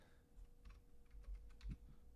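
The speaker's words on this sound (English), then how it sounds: "This keyboard is different. I hate that keyboard." Typing on a computer keyboard, a quiet burst of irregular key clicks and taps close by over a faint steady hum, with no voices.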